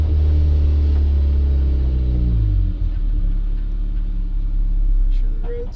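A 1994 turbocharged Mazda Miata engine runs steadily around 2,000 RPM at half throttle, a loud continuous rumble with its pitch sagging slightly, while a voice talks over it.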